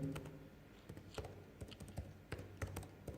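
Fingers type on a computer keyboard in a quick irregular run of close, crisp key taps and clacks. The taps are faint and there is no talk over them.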